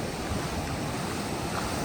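Sea waves wash up on a beach during a seaside picnic, a steady loud roar of surf mixed with wind buffeting the microphone, with no talking.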